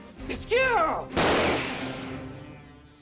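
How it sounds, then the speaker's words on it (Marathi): A single sharp gunshot-like blast with a decaying tail, preceded by a brief high-pitched vocal cry. "गोळीबाराचा आवाज आला"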